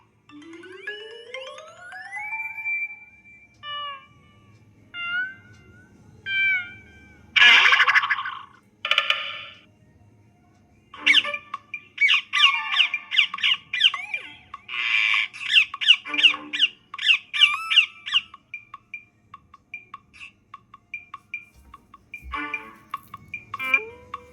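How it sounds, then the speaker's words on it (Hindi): Cartoon parrots squawk repeatedly in bursts, some loud and harsh, mixed with whistly chirps and bouncy cartoon effects, with no talking over them. "चेम्बन की मदद से आजाद हुए तोते"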